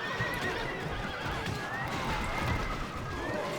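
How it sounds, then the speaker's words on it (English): Horses neigh and whinny amid galloping hoof clatter in a battle in the Rome: Total War video game, a dense, loud, continuous melee of several animals. "So a lot of horses are going down, as you can see."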